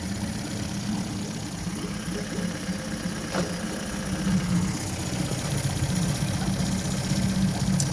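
A Mercury/Tohatsu 8hp four-stroke outboard idles low and steady in a test tank with a continuous close, even rumble. It rises slightly in level partway through.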